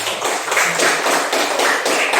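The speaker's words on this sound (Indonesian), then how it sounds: "Tepuk tangan buat kelompok 3." Classroom applause for a student group, a steady patter of many hands clapping together at close range with no talk, ending as a lesson continues.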